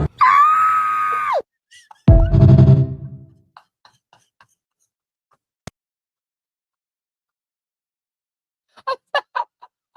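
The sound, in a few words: man imitating a chicken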